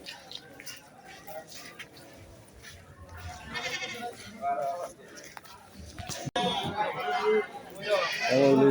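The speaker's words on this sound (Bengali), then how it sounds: "কত ছাগল দেখো" Goats bleat amid a crowded cattle market in Moulvibazar, with several calls rising over steady crowd chatter and growing louder and closer toward the end.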